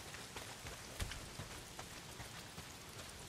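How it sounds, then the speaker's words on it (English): Heavy rain pours steadily in Days Gone, a dense, even hiss of drops pattering on surfaces with a few louder splashes, heard alone without voices. "Well, not if it's pissing down rain."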